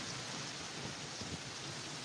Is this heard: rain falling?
yes